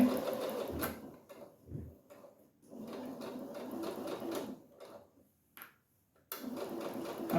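A sewing machine stitches around a pencil pouch in quiet, low-level runs of motor whir broken by short pauses and handling sounds, fading briefly near the end before starting up again.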